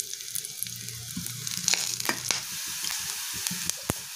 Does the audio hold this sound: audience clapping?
no